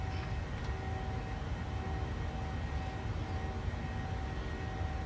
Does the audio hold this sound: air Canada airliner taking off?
yes